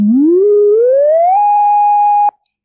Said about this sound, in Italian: Questo è il suono di un trapezio che vola in su.